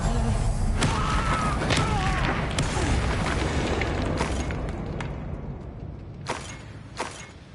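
Confringo explosion spell cast in the PS5 video game Hogwarts Legacy, a loud booming blast with sharp pops and rumbling debris that fades over several seconds, followed by a couple of fainter thuds.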